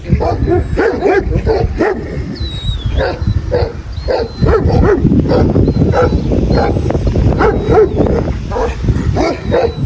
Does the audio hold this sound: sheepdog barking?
yes